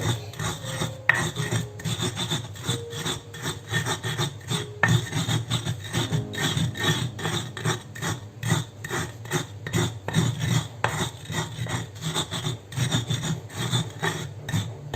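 Eggshells being crushed and ground in a stone mortar with a pestle, a rapid rasping, scraping rhythm of repeated strokes, close and steady throughout with no talk.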